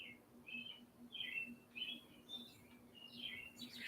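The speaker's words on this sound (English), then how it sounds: "have birds nesting in our gazebo" Robin chicks nesting in a backyard gazebo give repeated high, thin chirps in short bursts, a steady series of faint tweets over a low hum with no talking.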